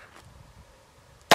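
A single sharp, loud gunshot cracks at the very end after a quiet pause, fired at a titanium wallet backed by ballistic gel.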